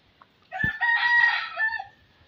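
A rooster crows loudly and close by, a long raspy call held for over a second, with a soft cluck just before it.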